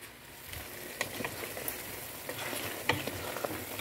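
Fatty lamb (dumba) meat frying in a pot for Afghani Kabuli pulao, a quiet continuous sizzle with scattered crackles and light stirring clicks.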